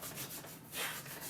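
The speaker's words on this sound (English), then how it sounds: "The barrel of the hot knife will melt the foam, or at least burn it off when it comes in contact with it." A hot knife saws back and forth through cosplay foam for Halo armor, making a soft, steady rasping rub with a few swelling strokes, close and quiet, with no voices.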